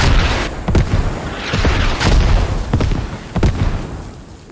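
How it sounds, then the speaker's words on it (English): Repeated heavy booms from a mortar salvo in the military shooter Squad, several deep impacts rolling one after another at mid distance with a sustained rumble between them. "Mortar salvo"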